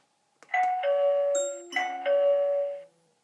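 A clear electronic chime from an EZVIZ EP3x Pro video doorbell plays a two-part melodic ding-dong phrase, bright and close, ringing out in an otherwise silent room.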